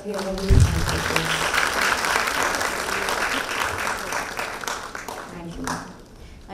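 Hall audience at a textile sustainability conference applauding the chief guest, steady broadband clapping throughout with a thump near the start and tapering toward the end.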